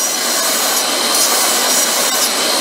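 An old, worn 120 grit belt on a belt grinder scours mill scale off steel, a loud, steady, hissing grind that runs without a break, close up and alone.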